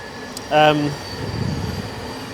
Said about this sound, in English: Excuse the trains in the background there.